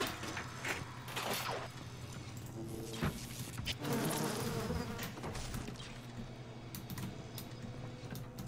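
Bees buzz in the video game BioShock, a close, wavering drone with swelling and fading hums layered over a low background tone, alone without talk.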